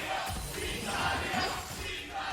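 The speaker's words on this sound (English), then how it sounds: "The crowd is getting animated right now as G2 are suffering under the early game." A large crowd in an esports arena at a League of Legends EU LCS match roars and cheers. The sound is a dense, sustained wash of many voices that swells and stays loud all the way through.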